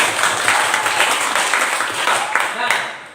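A classroom of students claps for a presenting group, a brief burst of fairly close, even applause lasting a few seconds and fading out at the end.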